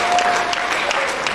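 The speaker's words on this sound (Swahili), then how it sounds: "Tuwapigie makofi." A congregation at a Swahili church retirement service applauds visiting guests, a short burst of loud, dense clapping.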